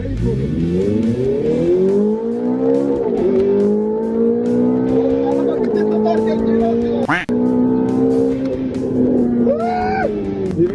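A supercar accelerating hard toward 330 km/h, its engine note climbing steadily in one long loud pull with brief gear-shift dips, up close from inside, a voice briefly breaking in near the end.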